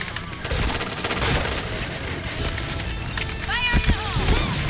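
An AK rifle fires in a shooting video game, with rapid bursts of gunfire crackling over a busy, loud battle mix. Voices talk over the shots.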